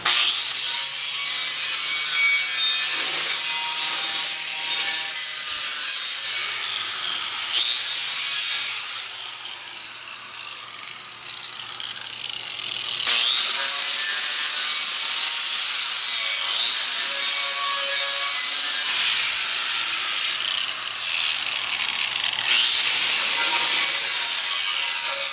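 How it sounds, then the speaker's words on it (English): A grinding wheel works a John Deere tractor wheel rim, a loud continuous abrasive whine that rises and dips as the wheel bites and eases off, fading briefly mid-way before surging again. "now we got the grinding wheel"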